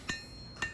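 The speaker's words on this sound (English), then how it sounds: "I'm going to start hammering the bevels in" Hammer strikes on a small hand-forged steel knife blade held on an anvil while its bevels are worked, two sharp ringing blows about half a second apart, close and fairly quiet.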